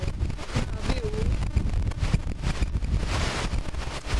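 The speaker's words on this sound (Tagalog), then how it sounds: "Ang lakas na ng hangin." Strong wind buffets the microphone in continuous gusts at a campsite in Siruma, Camarines Sur, Philippines, a low roaring rumble with a voice faintly audible underneath.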